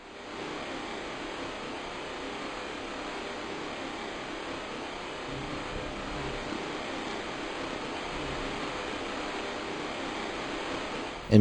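A steady, uniform roar of jet-like ambient noise fills a freezer area in a Half-Life game map, a constant broadband hiss without breaks.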